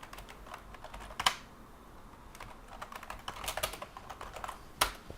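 Keystrokes on a Sun Type 6 computer keyboard, irregular clicky taps in short bursts with a couple of louder key strikes, close and alone without voices.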